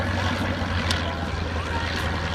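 A Fieseler Storch aircraft, a version powered by a 233 Renault engine, hovers at the Abingdon air show, its engine giving a steady loud drone amid wind and crowd noise, with a voice talking underneath.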